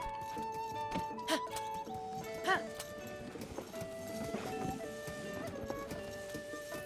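Horse hooves clopping in the video game Zelda: Tears of the Kingdom, a steady run of soft game-audio hoofbeats mixed with music and a brief whinny, with a voice talking over parts of it.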